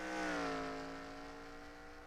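Race cars in a video game pull away on a restart at Watkins Glen, a layered, steady engine whine that holds its pitch, faint and distant, with no talk.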